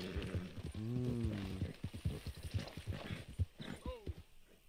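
Horse hooves clip-clopping in Red Dead Redemption 2, a steady run of hoof strikes with a horse neigh at the start, moderately close and fairly quiet.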